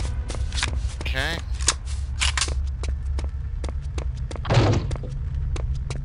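Gunfire in Return to Castle Wolfenstein: a string of sharp, repeated shots at irregular intervals, some sounding distant, beneath a person talking over the game.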